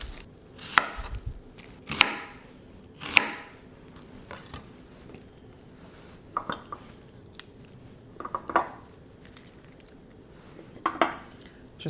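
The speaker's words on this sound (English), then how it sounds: "I'm going to slice a little bit of white onion" A knife slices through white onion on a cutting board in a string of separate crisp chops, spaced irregularly with short pauses between them, close and clear with no speech.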